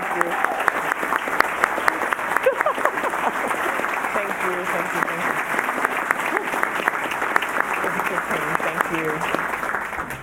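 Sustained, steady applause from a large audience at a Columbus Metropolitan Club forum, welcoming Columbus City Schools Superintendent Talisa Dixon, dense clapping throughout with no break.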